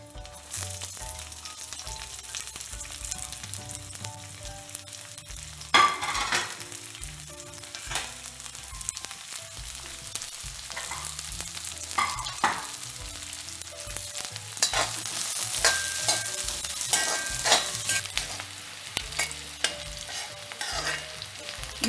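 Ginger, green chili and curry leaves fry in coconut oil with a steady, close sizzle, broken by repeated stirring scrapes and a sharper clatter near the start of the stir.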